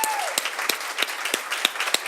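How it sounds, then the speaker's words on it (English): Guests at a physician assistant graduation give a round of applause for the faculty and staff, a loud, dense crowd clapping with regularly spaced sharper claps standing out. "so we all can give them a round of applause for everything that they have done for you"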